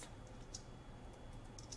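Light, faint typing on a computer keyboard, a quiet scattering of soft key clicks at an uneven pace with no talk over it.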